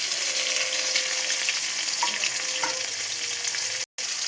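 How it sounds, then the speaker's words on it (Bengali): Potatoes frying in a pan with salt, cumin, green chilli, tomato, turmeric and chilli powder, a steady bright sizzle with a faint tonal whine and a couple of soft stirring scrapes, ending in a brief dropout. "আলুটা ভেজে নেব লবণ দিয়ে।"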